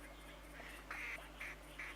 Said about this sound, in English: I heard these ducks, but I can't see where they are.